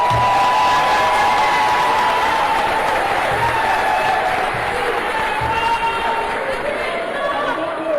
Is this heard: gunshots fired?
no